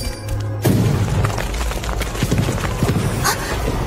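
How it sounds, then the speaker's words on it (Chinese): A gunshot in a post-apocalyptic action drama: a sudden loud boom breaks in after a quiet start, followed by a noisy tail of scattered thuds and impacts. "是枪声"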